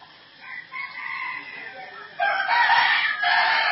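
A rooster crows in two loud, drawn-out calls, the second stronger and longer, with no talk over them.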